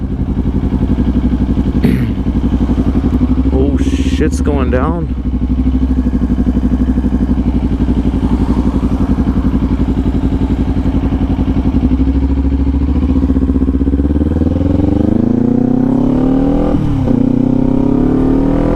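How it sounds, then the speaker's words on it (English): A loud motorcycle engine rumbles nonstop at close range, revving up and down a few times, while someone briefly exclaims over it. "It's just my exhaust sound. It's so loud."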